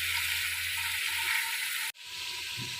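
Chicken pieces fry in a pot: an even, close hiss of sizzling oil holds throughout, cuts out for an instant, then resumes with a soft stirring thud.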